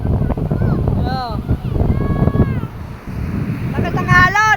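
Waves wash against the shore under gusty wind buffeting the microphone, while people talk nearby.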